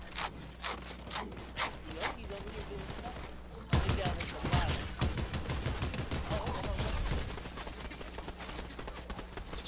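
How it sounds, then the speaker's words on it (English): Video game gunfire as several players trade shots: light rapid pops in the distance, then a denser, louder burst of firing that keeps rattling on, with muffled voices talking underneath. "They're shooting each other."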